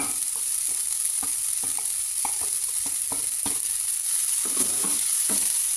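Chinese cabbage stir-frying for a soya dumpling filling, a constant hot sizzle broken by regular scraping strokes of the spatula in the pan, close up and with no talking.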